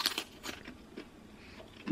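Brief crisp crunches from chewing crunchy air-fried food, close to the mic, a few bites in quick succession, ending in a short louder burst.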